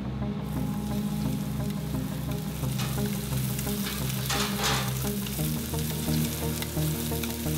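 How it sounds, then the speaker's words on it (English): Veal sweetbreads pan-fry in butter with a loud, continuous close sizzle and crackle, with occasional stirring or pan movement. "it's crispy because we pan fried and we finish with some butter"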